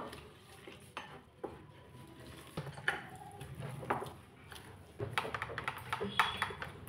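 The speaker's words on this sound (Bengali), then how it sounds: "গরম জল দিয়ে আমি মিক্স করে নেব।" Semolina batter with sugar, salt and warm water being stirred in a bowl, a steady scraping and clinking of spoon against the bowl with irregular knocks, close and moderately loud, no talking.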